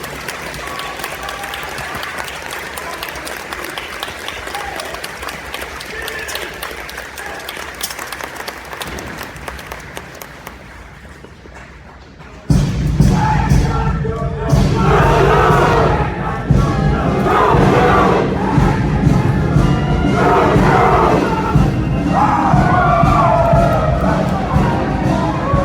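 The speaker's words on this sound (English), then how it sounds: "please join me in a round of applause for the graduates" A large crowd at a military basic training graduation bursts into loud, sustained applause with scattered cheers and shouts, following a quieter stretch of murmuring crowd noise.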